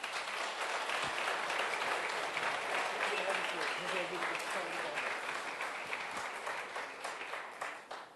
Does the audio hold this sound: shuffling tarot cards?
no